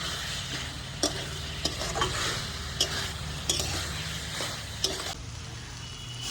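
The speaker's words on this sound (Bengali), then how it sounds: "এবার আমি আলুগুলো দিয়ে আরেকবার কষাবো।" Fried potatoes are stirred through a tomato spice masala in a pan for a Bengali katla fish curry, with a continuous close sizzle and periodic sharp scrapes and clinks of a spoon against the pan.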